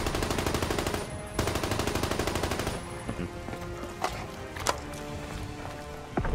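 Rapid automatic gunfire from Call of Duty: Black Ops 3 custom Zombies on the Shoot Haus map, loud and continuous for about three seconds, then sparser single shots and impacts over in-game noise.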